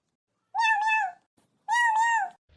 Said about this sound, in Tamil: அந்த பூனை ஏதோ சொல்லுதுன்னு நினைக்கிறேன்